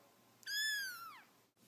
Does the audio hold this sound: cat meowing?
yes